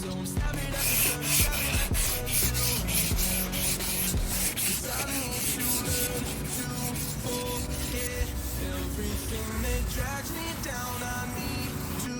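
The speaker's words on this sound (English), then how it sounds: "I'm going to go ahead and scuff down the entire bumper cover using this gray scuff pad." A gray scuff pad is rubbed briskly over a plastic bumper cover from a 1994 Acura Integra, giving a continuous close scrubbing and sanding rasp in uneven strokes, with no speech.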